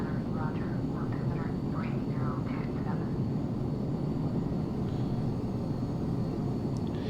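A BAC 1-11 jet airliner flying in the Prepar3D v5 flight simulator gives a continuous broad engine roar, with a brief voice-like murmur near the start and the steady drone carrying on to the end.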